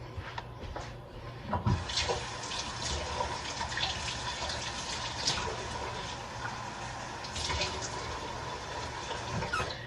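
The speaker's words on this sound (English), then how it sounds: "So I'm going to fill up my measuring bowl, well, measuring cup, with 1/4 of water" Tap water runs steadily into a measuring cup in a home kitchen while baking brownies, a continuous close splashing fill with a brief clunk near the start.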